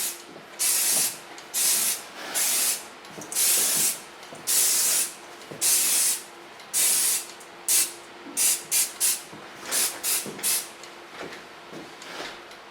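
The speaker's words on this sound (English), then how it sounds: "Spray it between the hairs." Lanza roots effect hair product sprayed onto fine long hair from a shaken can, about fifteen short bursts of hissing spray, some longer and some quick, close and alone.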